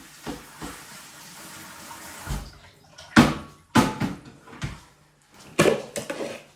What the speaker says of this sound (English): I have rinsed the leeks